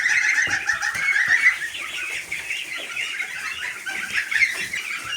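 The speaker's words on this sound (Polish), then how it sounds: "Właśnie ten kogut tutaj jest." A flock of chickens clucks and chatters continuously, a busy, steady coop chorus with a rooster among them, fairly close.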